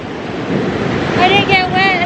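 Ocean waves wash up on a beach, a steady broad rush of surf with wind buffeting the microphone and a few faint high tones near the end.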